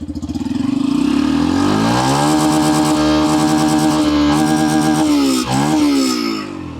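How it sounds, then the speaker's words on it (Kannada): A Yamaha FZS FI Hybrid motorcycle engine runs loud and close, its pitch rising as it revs up and holding a steady, throaty drone before easing slightly. "ಡೈರೆಕ್ಟ್ ಇಂಜಿನ್ ಸೌಂಡ್ ಮಾತ್ರ ಕೇಳಿಸುತ್ತೆ"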